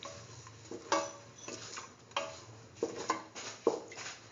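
Spoon scraping and knocking against a pot while stirring a banana, semolina and milk mixture, a string of quiet irregular ticks and clinks at close range with no voices.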